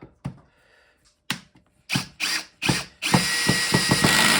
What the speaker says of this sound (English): I've got this on the lowest setting for the drill